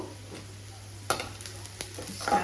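Ingredients for sambar frying in a pan with a soft, steady sizzle, broken by a few sharp stirring scrapes and clicks of a utensil; close and fairly quiet, with no talking.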